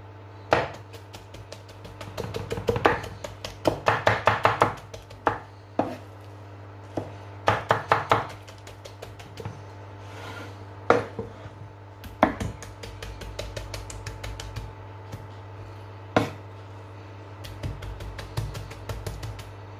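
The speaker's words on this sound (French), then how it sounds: "je vais venir la hacher au couteau" A knife chops scooped-out eggplant flesh on a board for the Turkish dish hünkar beğendi, with clusters of quick, crisp taps alternating with single sharp chops and brief pauses.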